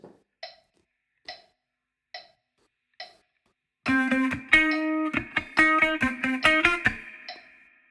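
Four soft metronome clicks count in, then an electric guitar plays a short, choppy phrase from a song of quick staccato notes and chords, ending on a ringing note.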